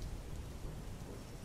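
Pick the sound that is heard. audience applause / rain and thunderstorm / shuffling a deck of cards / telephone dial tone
rain and thunderstorm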